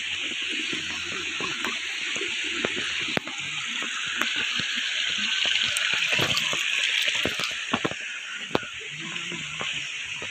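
Waterfall at Padre Burgos in Quezon, Philippines: a constant rushing and splashing of falling water, close and steady throughout, with scattered splashes and light clatter.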